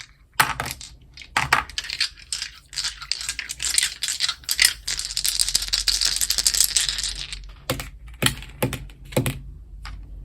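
Four dice are rolled for a tarot pick-a-card reading, making a rattling, clattering tumble of small hard objects with scattered sharp clicks, close and fairly loud, with no talk over it.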